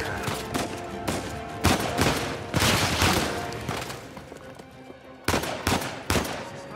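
Gunfire during a firefight in Uncharted 4: A Thief's End, with loud repeated bursts of rapid automatic shots and single cracks coming close together, no voices.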